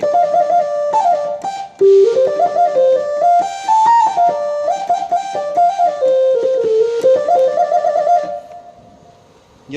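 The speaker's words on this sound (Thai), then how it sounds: "มีเสียงฝนเสียงฟ้าด้วย" A Korg keyboard melody plays steadily, with a wash of rain-like hiss and a few thunder-style rumbles blended in, fading out near the end.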